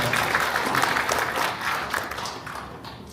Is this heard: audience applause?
yes